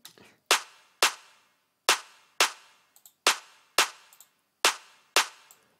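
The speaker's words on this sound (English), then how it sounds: "Again, another sort of clap rim shot sample" Nine sharp electronic 909 clap hits in an irregular pattern, each a crisp snappy burst with a short noisy tail, separated by silence.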